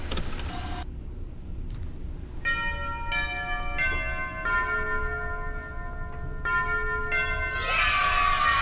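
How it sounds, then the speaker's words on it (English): A school bell in a video game rings out as a series of sustained, tonal chime strikes, fairly close and clear, over a low background hum, ending in a brighter burst of noise. "That's what we like to hear, the school bell ringing to go home."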